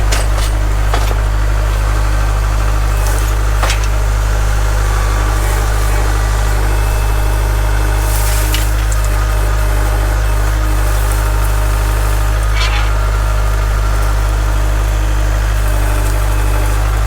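A farm tractor engine idles steadily and close by, a constant low rumble with a strong fundamental hum that runs unbroken throughout, with no voices over it.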